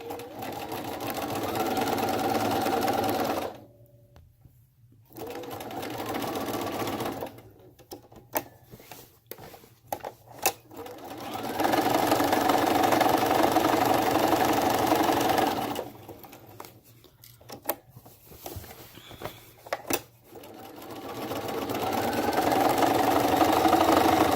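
A sewing machine zigzag-stitches the corners of a hexagon quilt border in loud, close bursts of rapid needle chatter lasting several seconds each, with quiet pauses between runs.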